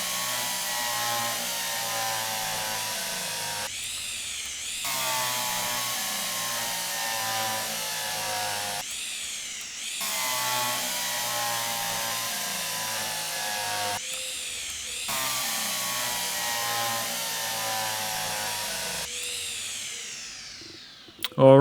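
Power drill running in the Derail Valley train game, a steady loud whine broken by short pauses and rising pitch sweeps as it spins up, repeating several times before winding down at the end.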